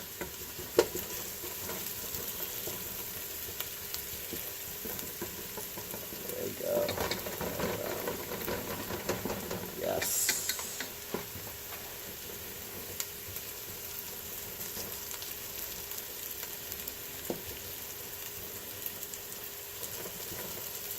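Garlic frying in oil in a pan for spaghetti sauce, a steady close crackling sizzle throughout with occasional light clicks and a brief louder hiss partway through.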